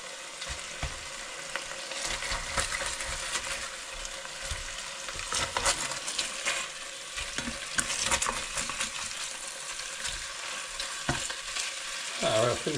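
Chicken pieces sizzle and fry in a pan with a steady crackling hiss, broken by occasional soft clinks and stirring sounds, close and continuous with no talk.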